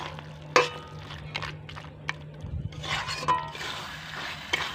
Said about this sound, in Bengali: এবার সুন্দর করে এগুলোকে খুন্তি দিয়ে মিশিয়ে নিচ্ছি।